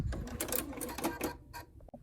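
A sewing machine backstitching the seam of a fabric doll, a quiet close run of rapid needle stitching in short bursts, stopping with a couple of faint clicks near the end.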